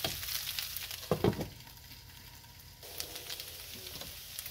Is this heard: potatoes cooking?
yes